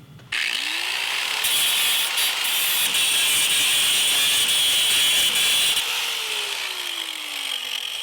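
A power tool grinds metal off a seized door hinge pin on a Jeep Cherokee, a loud, steady high-pitched whine that runs almost without a break and ends in a falling pitch as it winds down.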